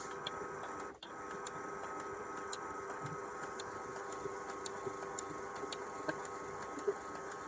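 A Canon Pixma G series inkjet printer (G3010/G2010) showing error P07 runs with a steady mechanical hum and whir, faint clicks and ticks scattered throughout, with one brief dip near the start.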